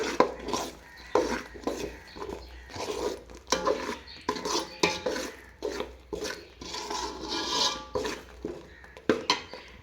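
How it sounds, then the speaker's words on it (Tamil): A spoon scrapes and clanks against a pot while stirring South Indian fish curry (meen kuzhambu), in repeated irregular strokes, close and fairly quiet. "நல்லா கொட்டி கிண்டி விட்டுக்கலாம் ஃப்ரெண்ட்ஸ்."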